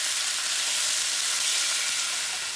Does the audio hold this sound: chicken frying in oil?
yes